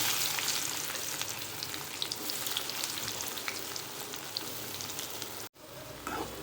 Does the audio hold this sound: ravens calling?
no